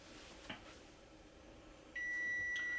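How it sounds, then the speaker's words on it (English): An oven timer sounds a steady, high, continuous electronic beep in a quiet kitchen, starting partway through and carrying on to the end. "There's the timer."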